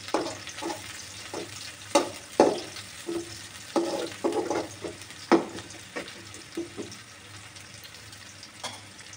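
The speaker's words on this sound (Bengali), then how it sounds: "এবার এগুলোকে ভালো করে ভেজে নিতে হবে, একেবারে ভালো করে ভেজে নেবেন, পেঁয়াজগুলো যেন লাল লাল হয়ে যায়।" Onions fry in a pan for a sea fish curry, a steady close sizzle broken by frequent scraping and knocking strokes of a spatula stirring them.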